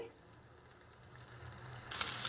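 Fish curry masala with tomato puree fries in a pan, a soft low sizzle that swells louder and brighter near the end.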